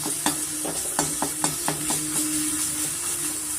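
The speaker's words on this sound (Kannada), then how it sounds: "ಎಣ್ಣೆನಲ್ಲಿ ಫ್ರೈ ಮಾಡ್ಕೊತೀನಿ" Ginger garlic paste frying in hot oil, a steady close sizzle broken by repeated clicks of stirring against the pan.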